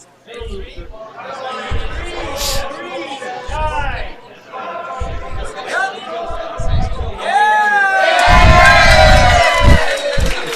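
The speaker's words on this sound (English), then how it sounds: "If you heard that cheering, the 50-50 draw just got announced" Crowd at a curling game at the DEKALB Superspiel cheering loudly after the 50-50 draw announcement, with whoops and shouts swelling near the end while a commentator talks over it.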